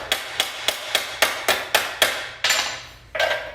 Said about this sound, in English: Let me just do a tiny bit more hammer work there.